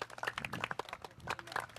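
Students in a school classroom clap together in a quick, dense patter of overlapping hand claps, moderately loud and close, with no voices over it.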